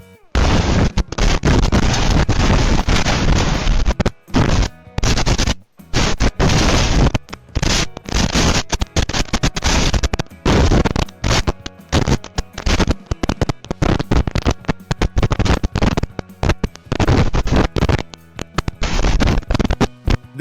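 A tornado tears through a parking lot in St. Louis, destroying cars and buildings, with violent, distorted roaring and crashing bursts battering the microphone almost continuously, broken only by brief gaps.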